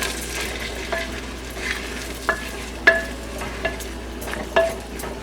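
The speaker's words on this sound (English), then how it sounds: "I'll add my boiled carrots. Give it a good stir." Boiled peas and carrots stirred into egg fried rice in a wok or claypot, a soft sizzle under several distinct scraping clinks of the utensil against the pan at irregular intervals.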